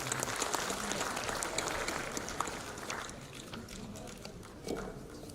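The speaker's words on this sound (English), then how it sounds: "A huge round of applause here." Conference audience at a seafarers' recruitment and welfare symposium applauding steadily, the clapping staying fairly even and moderately distant across the whole stretch.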